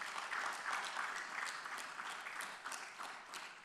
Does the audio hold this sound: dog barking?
no